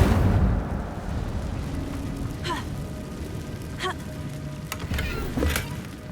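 A fire spell cast in the Hogwarts Legacy video game sets off a deep, booming rumble followed by several crackling bursts of flame that fade and recur across the clip.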